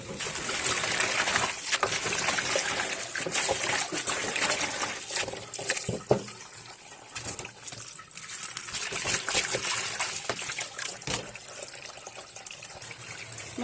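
Tap water trickles and splashes steadily as spinach leaves are rinsed in a sink, a continuous close wash with small clattering handling sounds throughout.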